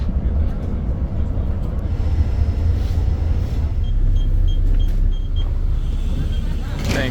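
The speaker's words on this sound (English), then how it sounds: "Buses are here." Buses and road traffic at a stop in Phuket, Thailand, in the rain: a steady low engine rumble of vehicles arriving and idling nearby, with faint background voices.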